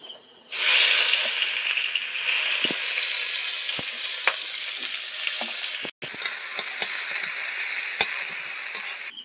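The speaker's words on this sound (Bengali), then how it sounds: "মশলাগুলো কষিয়ে নেব তো প্রথমে দিয়ে দিচ্ছি পেঁয়াজ কুচি" Chopped onion hits hot oil and spices in a pan for a fish curry, bursting into a loud, steady sizzle with occasional stirring clinks, briefly interrupted and then resuming just as strongly.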